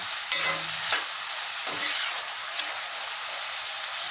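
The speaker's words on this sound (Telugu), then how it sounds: "ఇవి బాగా వేపించుకోవాలి, బాగా బ్రౌన్ కలర్ రావాలి" Ingredients frying in a pan until brown for a prawn and drumstick curry, a soft continuous sizzle with a few stirring scrapes early on and no talk.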